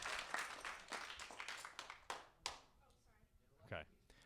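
An audience claps in scattered bursts during a live podcast recording, brief uneven applause that dies away into a few lone claps, with a voice speaking over it.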